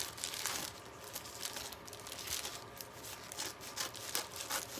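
Tough plastic mail packaging is crinkled and crumpled while someone struggles to open it, a continuous close, moderately loud rustling with uneven bursts and no talking.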